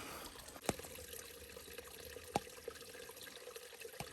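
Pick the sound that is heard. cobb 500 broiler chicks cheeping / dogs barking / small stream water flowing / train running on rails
small stream water flowing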